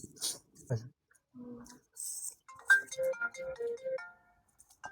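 A mobile phone ringtone plays a bright melodic tune, fairly close, after and alongside brief bits of talking.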